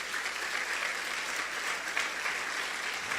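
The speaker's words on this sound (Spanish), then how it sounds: "¿Le quiere dar una ofrenda de palmas a Dios," A church congregation claps together in a sustained, steady burst of applause as an offering of praise, dense and even throughout with no voices on top.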